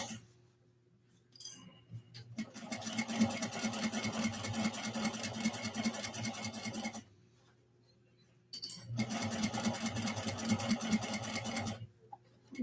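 A sewing machine stitches a seam at a 3/8 inch seam allowance in two steady bursts, about four and a half seconds then three seconds, each with a brief pause and a faint click, close and clear with no talk.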